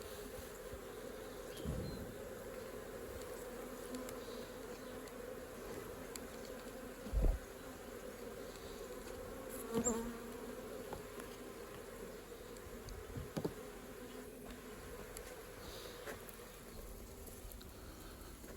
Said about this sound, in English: Just a few bees left in the box.